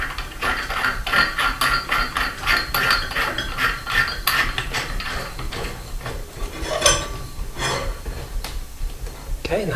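Metal nut being threaded onto the post beneath a glass bathroom light fixture globe, a busy run of small clinks and ratcheting scrapes close by, with speech heard throughout.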